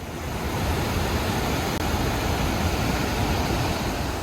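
Iguazu Falls on the Argentina side, a massive waterfall, producing a loud, steady, close roar of rushing water with no pauses and no voices.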